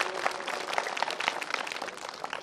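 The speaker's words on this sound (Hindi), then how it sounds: "एक बार जोरदार तालियां" Dense, steady clapping from an audience at a school award ceremony where students receive medals; a short burst of many hands applauding together, fairly close, with no talking.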